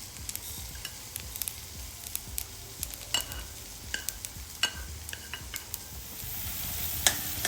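Onion and tomato fry in oil in a pan, giving a soft, steady sizzle with scattered small pops and the occasional stirring scrape, faint and continuous with no voices.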